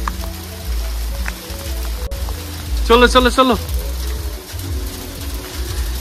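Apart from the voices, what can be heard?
hailstorm, rain falling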